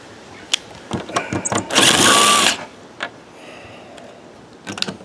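A drill whirs in one short, loud burst driving screws into wood, surrounded by scattered clicks and knocks of work on a wooden swing set nearby.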